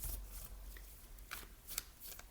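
Tarot cards are shuffled close by in soft, quick riffles and flicks, a few faint bursts of papery rustle spread across a couple of seconds with no talking.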